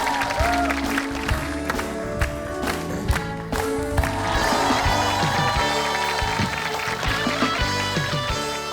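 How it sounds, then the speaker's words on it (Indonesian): A studio audience at a stand-up comedy show claps for comedian Poppy Sovia over loud, rhythmic background music, with the applause steady and mostly masked beneath the band. "Tepuk tangan buat Poppy."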